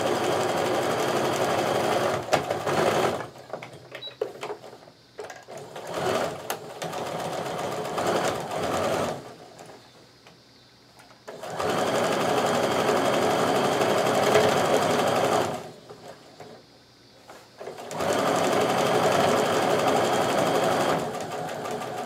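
A sewing machine stitches a quilt block in three long bursts with short pauses between them, steady and close, with no talking.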